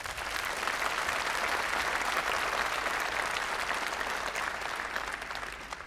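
An audience at a business talk applauds, sustained, even clapping from many hands that fades slightly toward the end.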